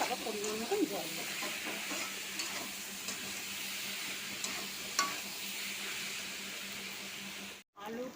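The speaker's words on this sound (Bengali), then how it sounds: "আমি মশলাটা দিয়ে কিছুক্ষণের জন্য কষবো" Spice paste for aloo posto fried and stirred in a pan, a steady soft sizzle with faint scraping strokes, a clear background hiss and light talk over the top, plus a brief dropout near the end.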